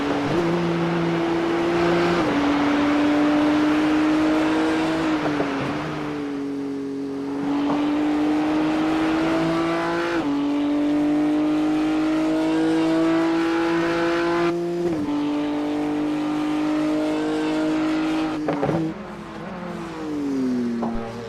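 A BMW GT3 race car screams at high revs on a circuit, engine pitch climbing steadily then dropping sharply at each gear change, loud and close for a long sustained run with no talk over it.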